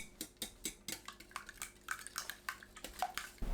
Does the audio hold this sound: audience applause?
no